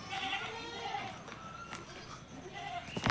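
A local goat on a goat farm in Nagaon, Assam, bleats in repeated wavering calls, with faint voices in the background.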